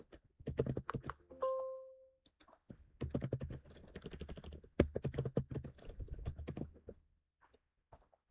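Computer keyboard keys tapped in quick bursts with pauses between, close and crisp, with one short electronic beep early on and no talking.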